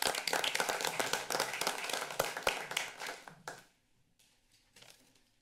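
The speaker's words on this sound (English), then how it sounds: "so hopefully we'll award them and applaud them" Scattered applause from a small group at a transit district board meeting, steady for a few seconds, then thinning out to a few faint claps before fading.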